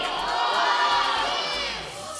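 A school audience in a hall at a Ukrainian quiz contest shouts an answer together in one loud, sustained chorus of many voices that fades slightly toward the end.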